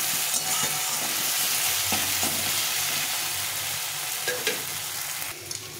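A masala of garam masala, tomato and onion sizzles in hot oil while being stirred in a pan, a steady close frying hiss broken by occasional scraping strokes of the spoon.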